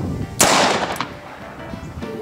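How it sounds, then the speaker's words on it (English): A single loud, close .44 Magnum gunshot, a Magtech 240-grain jacketed flat-point round fired into expired body armor backed by a sandbag, a sudden sharp crack that quickly fades into quiet background. "Magtech 240 grain jacketed flat point 44 Magnum"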